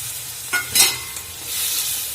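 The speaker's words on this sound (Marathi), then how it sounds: "आता मी याच्यामध्ये टाकते आपली भिजवलेली ती डाळ हरभऱ्याची डाळ" Soaked chana dal stirred into frying ridge gourd in a pan, a brief burst of hissing sizzle with a couple of scraping spatula strokes, close and short.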